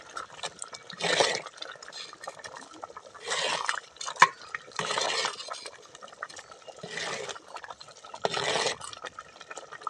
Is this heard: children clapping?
no